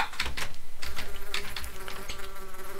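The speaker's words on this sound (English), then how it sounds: "Get out of my way, bee." Buzzing bee in a Minecraft-style video game, a steady insect drone with rapid wingbeat flutter, fairly close and continuous for a few seconds.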